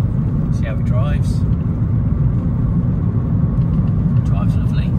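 A 2018 Fiat 500C 1.2 8v convertible drives along a road, its small engine and tyre rumble a loud, steady drone with someone talking over it.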